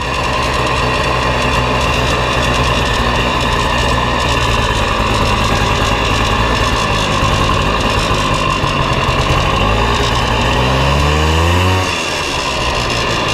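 A Polaris Xplorer 250 4x4 ATV engine revs loud and close, holding a steady buzzing drone that climbs in pitch, then drops off near the end, with no talking.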